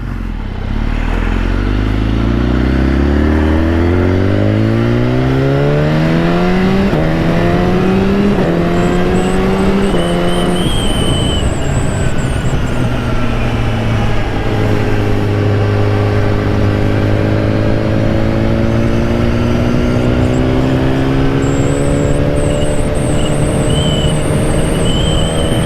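A BMW HP4 motorcycle engine revs up through rising gears, loud, close and continuous, with a steady engine drone after the acceleration.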